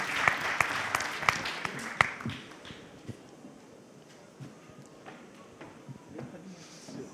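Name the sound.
audience applause at a conference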